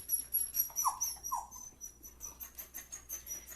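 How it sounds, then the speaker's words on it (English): A dog with separation anxiety panting steadily, quick regular breaths about three per second, close and clear, with a couple of brief squeaky whimpers early on and no voices. "Panting."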